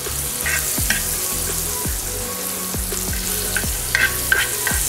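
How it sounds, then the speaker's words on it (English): Pomfret fish frying in butter on a flat tawa, Indian style, crackles loudly and continuously, with faint background music and occasional spatula scrapes. "I'm going to fry the pomfret fishes, and my tawa is ready, and I'm going to put some butter"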